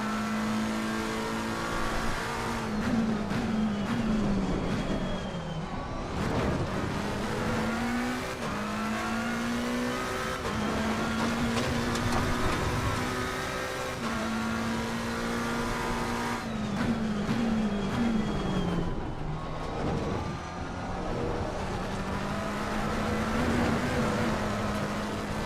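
Race car engine in Assetto Corsa Competizione, revving high through the gears with steady loud droning pitch that climbs and drops at shifts, continuous throughout with no talk.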